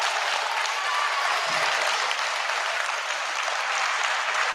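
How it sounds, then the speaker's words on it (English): A school audience at a high school speaking event breaks into sustained clapping, a broad, even wash of hands from many people that holds steady throughout. "Why are people clapping for that?"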